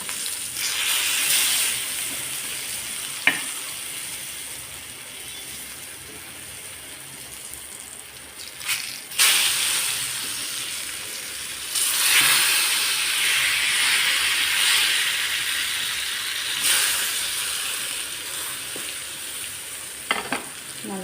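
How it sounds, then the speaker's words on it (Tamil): Brinjal slices sizzle and hiss steadily as they fry on a hot tawa, with occasional louder bursts of spitting oil and a few clinks as pieces are turned, heard close and alone without talk. "நல்லா ஃப்ரை பண்ணிக்கணும் எல்லா சைடும்."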